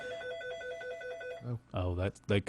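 A telephone rings with an incoming call during a tech talk show, its steady repeating electronic tone sounding for about a second and a half before voices talk over and around it.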